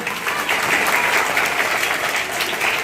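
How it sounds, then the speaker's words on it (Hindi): Steady, loud applause from an audience honouring the guests on stage at a girls' government higher secondary school felicitation ceremony, dense clapping sustained evenly throughout with no voices. "लगातार सभी मंचासीन अतिथियों के लिए जोरदार ताली बजाएं"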